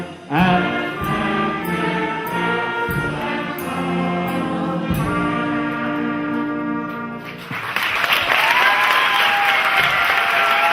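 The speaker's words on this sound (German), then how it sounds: "Euer Applaus." Live music ends with a final note, then the audience breaks into loud, broad applause that continues strongly through the last few seconds.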